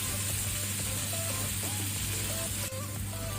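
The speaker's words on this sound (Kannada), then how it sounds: "ಮಸಾಲವನ್ನು ಒಳ್ಳೆ ರೀತಿ ತುಪ್ಪದಲ್ಲಿ ಫ್ರೈ ಮಾಡ್ಕೊಳ್ಬೇಕು" Ground masala with curry leaves and green chillies frying in ghee on medium flame for squid roast, a steady close sizzle with faint stirring clicks throughout, no talk.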